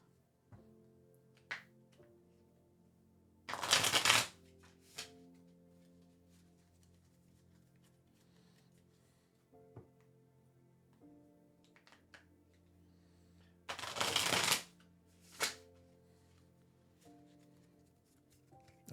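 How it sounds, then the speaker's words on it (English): Tarot cards being shuffled during a live reading, two separate bursts of crisp riffling, each lasting about a second, with faint clicks and taps between them in an otherwise quiet room. "I'm going to start shuffling now"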